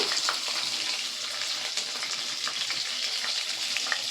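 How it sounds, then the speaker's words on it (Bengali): Chopped onions frying in hot oil with black cumin give a steady, dense sizzle throughout, close and even, with faint crackles and pops. "এক এক করে পেঁয়াজগুলো ওই তেলের মধ্যে দিয়ে দেব"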